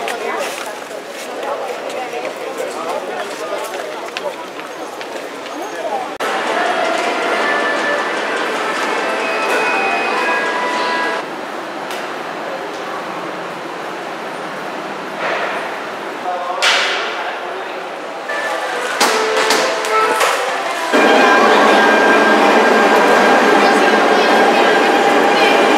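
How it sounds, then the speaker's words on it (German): Train at a railway station, with a broad steady rumble and hiss that rises and falls across the stretch, shifting loudness as the train moves; voices are heard over it. "wir sind schon wieder auf dem Bahnhof"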